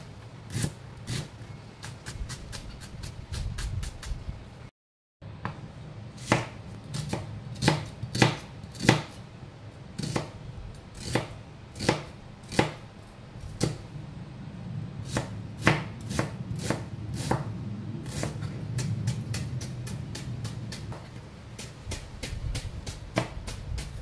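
A knife chops an onion on a cutting board for meatball spaghetti, with a steady run of sharp, close strikes and a brief pause near the start. There is no talking.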